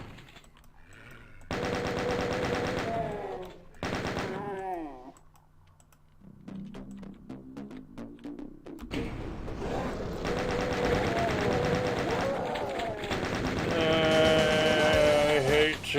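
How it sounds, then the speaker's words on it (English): Chaingunner enemies in Doom 2 fire chainguns in rapid mechanical bursts amid loud game effects and music, the rattling fire broken by short pauses and building toward a dense barrage. "I hate chain gunners."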